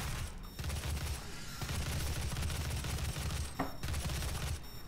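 Sustained enemy gunfire from DOOM combat, a dense, continuous barrage of rapid shots that stays loud for nearly five seconds, with a brief burst standing out near the end.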